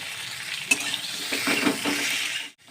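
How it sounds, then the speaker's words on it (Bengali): Okra already rubbed with salt and turmeric fries lightly in mustard oil over medium-low flame, a soft, even sizzle with one sharp clink partway through before it cuts off abruptly at the end. "এইবারে আমি আগে থেকে নুন হলুদ দিয়ে মাখিয়ে রাখা ঢ্যাঁড়সগুলোকে ফ্রাই করে নেব"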